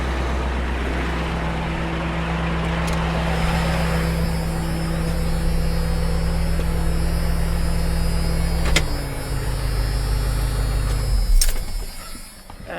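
A Jeep XJ engine idles in a steady, low droning hum with a constant tone, then cuts off near the end and leaves quiet room noise, with no talk.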